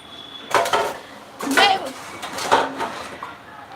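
Dishes and pots clatter in a kitchen sink basin, three sharp bursts of clanking metal and crockery spaced about a second apart, close and fairly loud, with a voice talking around the noise.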